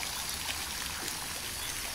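Water dripping and trickling in the Petrifying Well at Mother Shipton's Cave, a soft continuous splashing wash with faint individual drops, quiet and steady without voices.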